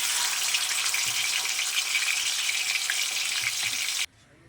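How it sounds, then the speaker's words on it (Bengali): Loud, steady hiss and crackle of katla fish frying in hot oil in a wok, sustained for several seconds and then cutting off abruptly near the end. "আমি মাছগুলো দিয়ে দিলাম কড়াইতে"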